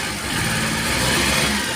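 Suzuki Every DB52 engine running with a misfire on cylinder number two, a steady close mid-pitched idle with a faintly uneven beat, alone without talk.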